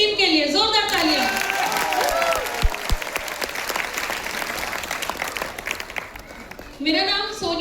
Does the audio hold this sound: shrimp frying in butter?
no